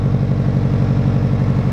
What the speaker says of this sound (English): First startup with this new exhaust on. It sounds pretty good.